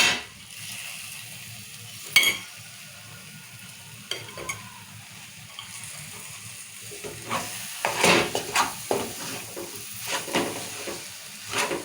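Gokarakaya curry with coconut powder gets stirred in a hot pan, a soft sizzle under intermittent scraping and stirring strokes, faint and close, with no talk.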